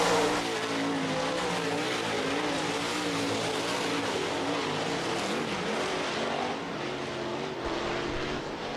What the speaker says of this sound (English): Nate Beinhoff looking like he is reeling in Blair Norduff's 76 machine